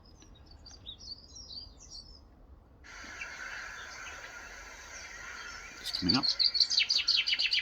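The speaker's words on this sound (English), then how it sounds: "And here's the chaffinch now." A chaffinch singing in a garden, a bright trilling phrase ending in a quick descending flourish, preceded by softer distant birdsong and a brief spoken remark.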